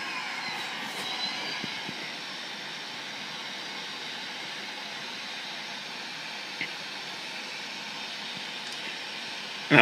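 A steady airplane engine drone from the Flight Unlimited Las Vegas flight game holds at an even, moderate level throughout, a broad hissing hum with no break.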